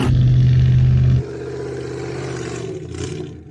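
A Hennessey Mammoth off-road truck races through wet mud, its engine roaring loudly at first, then dropping to a lower, steady rumble as it pulls away.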